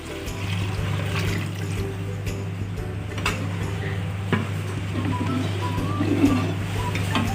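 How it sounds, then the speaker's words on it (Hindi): Mutton stock (yakhni) is poured into a cooking pot, giving a steady watery rush with occasional clinks of a utensil against the metal, heard up close and continuously. "अब हम इसमें यखनी का पानी शामिल कर देंगे।"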